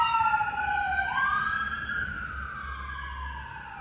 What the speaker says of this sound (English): I fear that those sirens are going somewhere